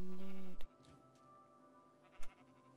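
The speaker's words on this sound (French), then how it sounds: "Font chier ces moutons." Sheep bleating in a video game, a sustained bleat that cuts off, followed by two short thumps and faint background game ambience.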